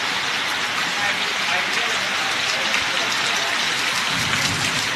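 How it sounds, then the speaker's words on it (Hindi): Heavy rain pours steadily as a dense, even hiss that fills the whole stretch, with a faint low rumble underneath that may be distant thunder. "ये देखो कितनी मस्त बारिश पड़ रही है बिंदास।"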